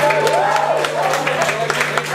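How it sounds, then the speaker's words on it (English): Applause and cheering from a small crowd at a live band gig in a pub, a short burst of clapping with whistles over a steady amplifier hum. "Give each other a round of applause for being here."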